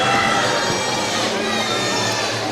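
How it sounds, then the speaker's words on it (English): Large crowd of fans cheering and shouting at a high school graduation ceremony as students enter, a dense continuous roar that stays loud throughout. "As the students are coming in and we're hearing the fans."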